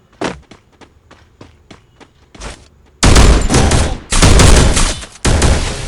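Gunfire in Free Fire Max starts with a string of single shots and short pops, then breaks into loud, dense automatic bursts of several seconds each with brief gaps between them.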